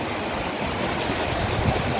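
Floodwater of a swollen river in Cagayan and Isabela rushes past in a loud, dense, continuous roar and wash, heard close with no voices.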